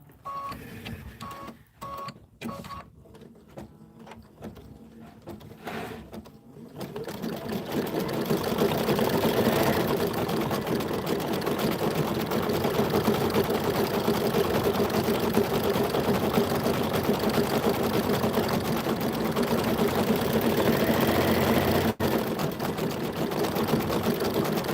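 A sewing machine stitches freestanding lace winter napkins, starting after a few seconds of scattered clicks and then running as a loud, steady, fast mechanical whir and rattle without pause.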